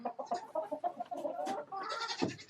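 Chickens in a coop on a misty, rainy day, clucking and squawking close by in a busy, overlapping run of short calls, with no voices.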